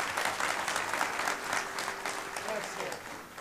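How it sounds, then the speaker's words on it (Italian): Theatre audience applauding after a performance of Shakespeare's The Tempest at Rebibbia, a sustained, even burst of many hands clapping, with faint voices and a held tone briefly showing through. "grazie per gli applausi che ci avete riservato"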